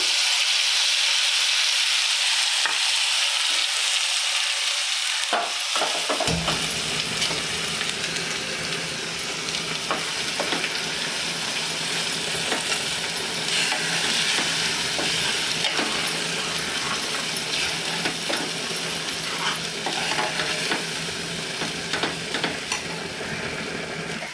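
Loud, steady sizzling of soaked cashew and dried red chilli paste frying in a hot pan for a sweet potato kurma, a sharp burst of hiss after a few seconds, continuing with occasional stirring scrapes.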